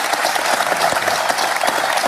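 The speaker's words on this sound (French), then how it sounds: "On l'applaudit." A live audience bursts into dense, steady applause for the composer Garbi Saprikian, a continuous close wash of many hands clapping with no break.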